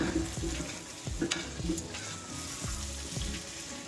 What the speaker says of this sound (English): now I'm just going to cover the pot lid and let it fry for about five minutes till the tomatoes get cooked